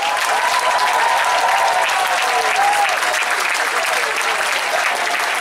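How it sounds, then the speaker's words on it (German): Audience applause at an outdoor award ceremony following a fireworks display: steady, dense clapping from a large crowd, sustained and loud throughout without pause. "Nochmal einen riesen Applaus."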